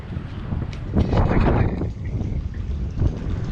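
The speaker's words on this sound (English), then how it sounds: "The wind has picked back up yet again." Gusty wind on a Florida bridge buffets the microphone with low rumbling roars that rise and fall, strongest in a surge midway, continuous throughout.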